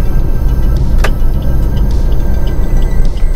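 Interior cabin noise of a car driven on the road with worn suspension bushings, a steady low rumble from underneath with a brief knock-like click partway through, no talk.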